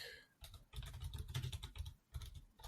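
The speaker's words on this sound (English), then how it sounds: "Sorry if you can hear me typing." Fingers type on a computer keyboard in rapid bursts of soft clicking and tapping, separated by brief pauses, quiet and close.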